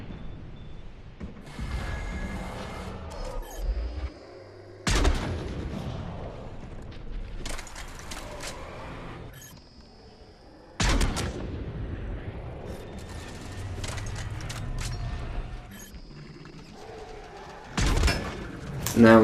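Gunfire and blasts in Mass Effect 3 against an indoctrinated Krogan brute, recurring in loud bursts among mechanical clatter while people talk over the action.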